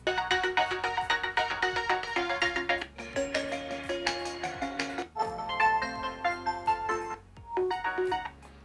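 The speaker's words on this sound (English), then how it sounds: "this is the Labs ringtone" Generated Labs ringtone playing on an OPPO phone running ColorOS 11: a bright electronic melody of quick plucked tones in phrases with short pauses, clear and close with no talk.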